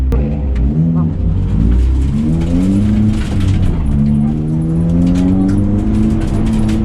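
An Opel Kadett race car engine roars loudly and steadily up close during a six-hour endurance race, its revving pitch rising and falling throughout, with a voice talking over it.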